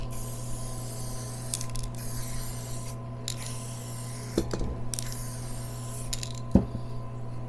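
Short hissing spray-paint bursts onto a scraper repeat at intervals over a steady mechanical hum, with a few clicks and rubbing noises nearby.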